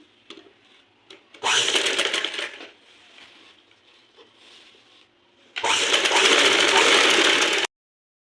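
A sewing machine runs in two loud bursts, about four seconds and two seconds long, stitching a lining onto the main fabric of a skirt, with quiet handling noise between the runs.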